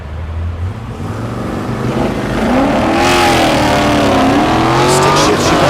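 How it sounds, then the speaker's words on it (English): A stick-shift Chevelle launching in a drag race at Thunder Valley in Noble, Oklahoma: a loud engine rises from idle into a hard, climbing rev, swelling close and harsh as the car pulls away. "Stick shift Chevelle on the left lane."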